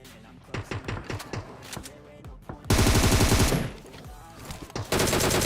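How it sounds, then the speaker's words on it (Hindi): Gunfire in the mobile shooter game PUBG Mobile: several quick single shots followed by loud sustained automatic bursts, close and punchy. "इतने मैं उस पर फायरिंग करने की सोचता हूँ"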